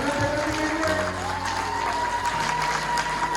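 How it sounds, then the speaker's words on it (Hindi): A standing audience at a public program in Odisha claps continuously, steady crowd applause with a low musical drone underneath. "जोरदार ताली हो जाए और खड़े होकर के ताली बजाइए"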